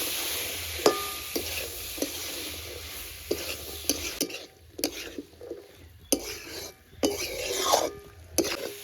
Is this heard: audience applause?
no